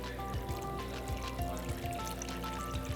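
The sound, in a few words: pouring fizzy homemade birch sap soda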